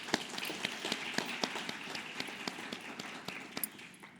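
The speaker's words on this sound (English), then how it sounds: "can we give them a round of applause?" A modest audience at a children's summit applauds its speakers, with sparse individual claps spread out and fairly quiet, rather than a dense burst.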